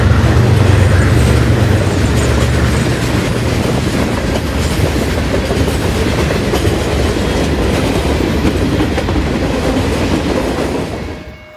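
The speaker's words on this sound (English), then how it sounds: "we catch our train at speed as it continues eastbound" A model railroad train of the Union Pacific central Texas layout running at speed eastbound, a steady loud rolling rumble with clickety-clack wheel rhythm, close and continuous before fading out at the end, no talk.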